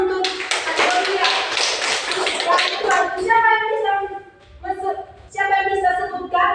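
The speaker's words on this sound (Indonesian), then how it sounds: "Oke, tepuk tangan untuk adik mulia." Schoolchildren in a primary-school science class clap in a dense, quick patter of taps for a classmate, followed by a teacher's voice speaking over the fading claps.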